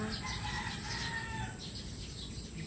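Chicks clucking and chirping nearby, several high repeated peeps over a constant low background hum, faint and continuous with no talking.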